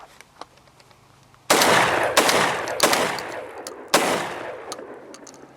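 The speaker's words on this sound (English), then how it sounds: "So we're going to take a couple of shots like this." Four loud, sharp shotgun blasts from a Beretta 1301 12-gauge, each with a booming decay, spaced roughly a second apart after a quiet start.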